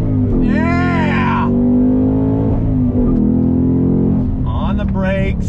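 A 2021 Ford Mustang Mach 1 with a shaker hood revs hard and loud up close, its engine note sweeping down through a downshift and then climbing again.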